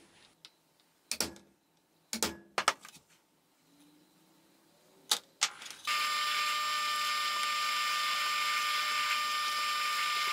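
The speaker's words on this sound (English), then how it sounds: "And we are going to use a small drill bit to do a pilot hole." A small drill bit bores a pilot hole through Kydex sheath material: a few sharp taps and clicks, then a steady, close, high-pitched whine that runs unbroken to the end with no talk.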